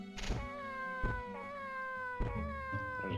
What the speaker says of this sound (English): There's a cat. The cat is suspicious. It's a suspicious cat.